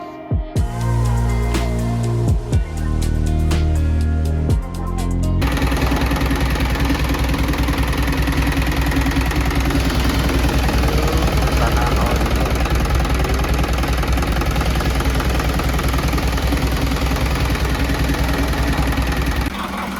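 An overhauled Isuzu 4HG diesel engine runs close by, with a few uneven bursts at first and then a loud, continuous knocking idle that holds steady throughout.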